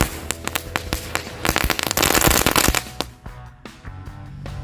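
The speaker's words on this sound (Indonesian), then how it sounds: "yang selanjutnya kita cobain mercon telur T-Rex" A T-Rex egg firecracker goes off nearby in a rapid, dense string of sharp crackling pops that builds to a loud burst, then thins out into scattered snaps.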